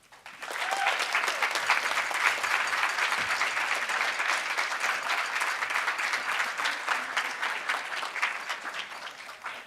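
Steady, full applause from an audience fills the space, a dense even patter of many hands clapping at moderate distance with no voices on top, fading in at the start and holding throughout.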